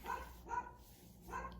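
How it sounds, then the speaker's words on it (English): A dog near a house porch gives three faint barks at night, evenly spaced and somewhat distant, with quiet background between them. "The dog's barking."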